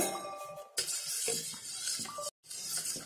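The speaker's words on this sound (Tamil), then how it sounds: "ஒரு பிஞ்ச் உப்பு இது போட்டு கலக்கிக்கோங்க." A spoon clinks against a glass while a pinch of salt is stirred into carrot juice, giving several light, close taps and scrapes with brief pauses.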